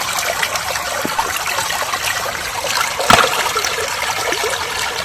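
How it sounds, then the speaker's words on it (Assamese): Cold water of the Manas Beki river washing over a flat stretch, heard close as a steady broad hiss and trickle, with a brief louder splash partway through. "পানীত ঢৌটো চাওক"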